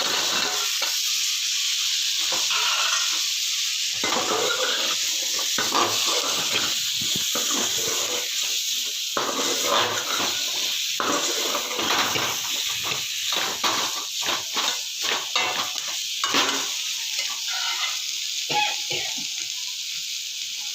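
Country vegetables for sambar sauté in hot oil with a steady, bright sizzle, broken by repeated stirring and scraping in the pan over about twenty seconds, with no voices.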